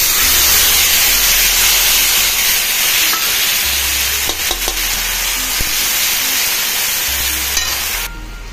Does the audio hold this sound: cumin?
yes